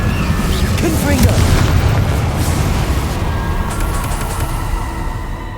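A Confringo blasting spell explodes in the Hogwarts Legacy video game, a loud, sustained boom with a rumbling, crackling tail that slowly fades over several seconds amid game sound.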